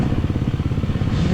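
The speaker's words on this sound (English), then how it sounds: "We got lots of angry revs behind us." A KTM 300 XC-W two-stroke dirt bike engine revs hard during a mountainous hare scramble race, a loud close rapid pulsing drone with quick throttle blips.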